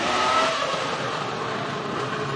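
A BMW FW26 Formula 1 car with a V10 engine, its high-pitched wail sustained loud and close as the revs hold steady through a brief burst.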